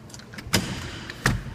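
A hotel room door latch at a Holiday Inn is pulled to unlock, giving two sharp metallic clacks about 0.7 seconds apart, close and fairly loud over steady room noise.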